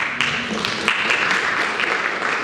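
An audience applauds the editor of a publishing house at the Prix Russophonie 2020 finalist book presentation: dense, steady clapping from many hands, sustained and even throughout.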